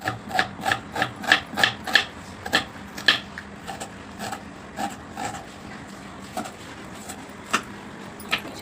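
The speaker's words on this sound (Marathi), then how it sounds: "हे असे छान असे बारीक वाटून घ्यायचे म्हणजे पोहेसारखे बनतात" Leftover bhakri flatbread being crushed by hand into small poha-like pieces, a series of dry rubbing, crackling strokes, steady and close, fading to sparser scrapes toward the end.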